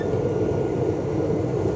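Inside a moving train carriage on the way to Bombay, a steady, low, rumbling drone of the rolling wagon fills the whole stretch without pause or speech.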